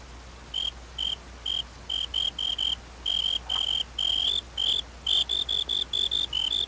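Crickets chirp inside the video game Minecraft, a series of short, high, evenly repeated trills in quick bursts over a quiet low hum, with no talking.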